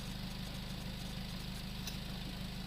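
A Suzuki SX4's engine runs steadily in two-wheel drive, one wheel spinning freely, with a constant low idle-like hum and faint mechanical knocking throughout, no talk.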